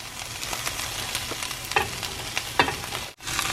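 Soba noodles with cabbage and bok choy being stirred in a hot pan, a continuous sizzle broken by a few scraping, clattering strokes of the utensil, close and fairly loud.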